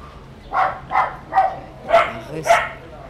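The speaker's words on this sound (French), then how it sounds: "Reste avec le son des aboiements des chiens" Dogs bark five times in a loose, uneven rhythm, moderately close, against a quiet background.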